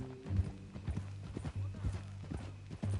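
Hooves of a horse in Red Dead Redemption 2 clip-clopping at a steady walking rhythm, moderately close, over a low continuous background hum.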